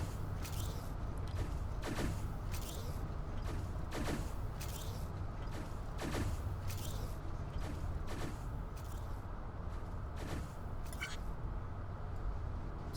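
Infinifactory game machinery pushing, spinning and welding blocks: a rhythmic series of sharp mechanical clanks and bursts, roughly one per second, over a constant busy factory hum.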